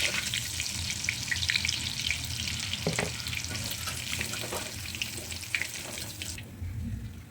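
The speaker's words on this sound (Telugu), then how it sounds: "చూడండి, మన పకోడీ అయితే ఇంత బాగా ఫ్రై అయిపోయిందో." Chicken pakoda deep-frying in hot oil, a steady close sizzle and crackle running throughout with occasional bubbling pops and a faint stir or clink near the middle, no voices.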